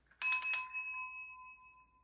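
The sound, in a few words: ringing a bell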